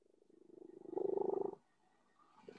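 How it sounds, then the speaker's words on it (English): A pet cat makes a loud drawn-out vocalization, a rising meow or yowl lasting about half a second, then fades to quiet with a faint trailing sound at the end. "I can hear somebody's cat"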